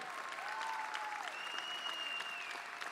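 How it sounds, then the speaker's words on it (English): Audience applause at a union gathering, a continuous even wash of clapping from a crowd, steady in level throughout with tonal whistle-like sounds gliding above it. "Give him a round of applause for what he does every single day."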